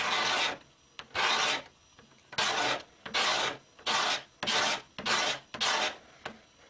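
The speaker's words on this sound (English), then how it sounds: "go ahead and you give it a push, and it'll remove material" A hand card scraper, flexed into a slight bend, is pushed across wood in eight short, dry rasping strokes with brief pauses between them, loud and close.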